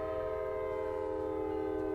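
A Grand Canyon Railway passenger train runs by on the Route 66 stretch, a steady, loud rumble with sustained tonal hum throughout and no break.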